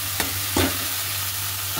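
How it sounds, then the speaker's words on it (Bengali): Onion and garlic frying in a pan, a steady sizzle with a few short scraping stirs, close and alone. "আর এদিকে হচ্ছে আমি পেঁয়াজ আর রসুনটাও ভাজা বসিয়েছি"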